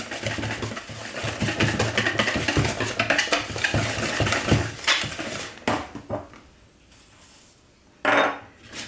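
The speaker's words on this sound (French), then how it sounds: "je finis en fouettant avec mon petit fouet" A small whisk beats muffin batter for M&M's muffins in a bowl, making rapid rhythmic scraping and clinking strokes close up, which pause briefly and then return with one louder burst.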